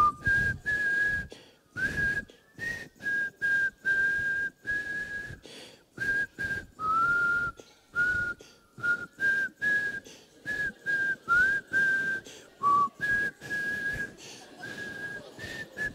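A crowd whistles together in one sustained, loud note, broken into short repeated bursts with brief pauses between them, the pitch wavering slightly from burst to burst.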